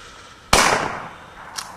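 A single loud, close gunshot rings out during a hunt, with a sharp crack and a decaying echo. A faint second pop follows about a second later.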